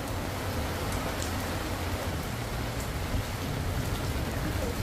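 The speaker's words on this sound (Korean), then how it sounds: "미친듯이 비가 내리고 있습니다" Heavy rain pours down at an outdoor festival as a dense, steady hiss of falling water, constant and loud with occasional individual drops standing out.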